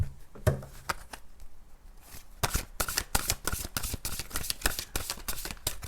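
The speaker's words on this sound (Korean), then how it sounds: "제가 추가 카드를 뽑아볼게요" Tarot cards being shuffled by hand: a few scattered riffles and slaps, then from about two seconds a fast, steady run of crisp papery flicks, close and moderately loud with no talking.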